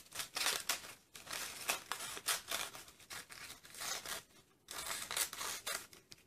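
Scissors snip through a cardboard toilet paper roll, cutting off small pieces in quick, close, crisp bursts with brief pauses between them; no voices.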